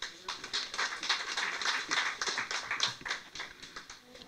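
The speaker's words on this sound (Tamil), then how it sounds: "ஆனாலும் கைத்தட்டு கம்மியாக தான் இருந்தது" Scattered clapping from a modest audience at a Tamil literary gathering, sparse and uneven hand claps filling the hall for a few seconds without speech.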